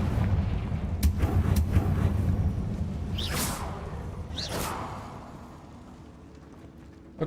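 A Confringo fire spell in Hogwarts Legacy: a couple of whooshing blasts and booms over a rumbling game soundscape, fading to quieter ambience at the end, with no voices.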